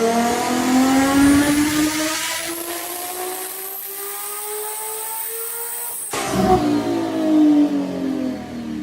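Racing engine of an R32 Nissan Skyline sports sedan with an RB26, 1100 rear-wheel horsepower, revving loud and high with rising pitch, a brief dip near six seconds, then climbing again.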